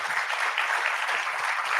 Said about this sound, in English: maybe we applaud for them